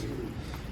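A pigeon gives a short, soft coo, faint and brief, heard alone.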